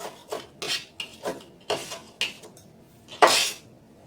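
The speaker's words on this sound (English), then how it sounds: "we're just going to chop some fresh cilantro and parsley and add it into our guacamole" A knife chopping fresh cilantro and parsley on a board, about eight distinct close chops in an uneven rhythm, the last one the sharpest, with no talking.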